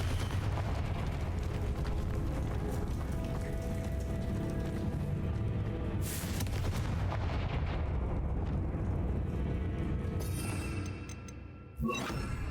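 Confringo fire spell in the video game Hogwarts Legacy, a dense, rumbling blast of booming fiery impacts that roll on continuously, then thin out before a final sharp burst near the end.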